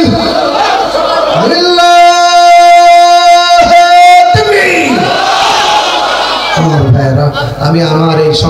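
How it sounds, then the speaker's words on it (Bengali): A large crowd at an Islamic religious gathering chants the slogan Nara-e-Takbir in unison after a single lead voice calls it out, a loud, sustained roar of many voices. "সবাই মিলে একই তালে দাও না স্লোগান, নারায়ে তাকবীর"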